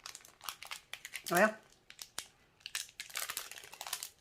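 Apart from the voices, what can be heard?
opening plastic packets of yellow rhinestones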